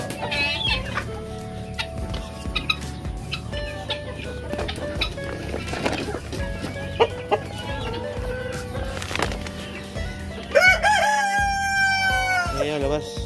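A flock of Rhode Island chickens clucks busily and close at hand, while a rooster crows near the end, with the birds calling over one another.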